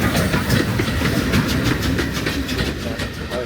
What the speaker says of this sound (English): There's the train going by at Goodrington Park.